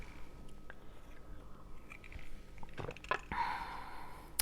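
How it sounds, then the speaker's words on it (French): Someone sips a drink up close, a short slurp and swallow with soft mouth sounds at a quiet table, no talking. "je vais prendre une gorgée."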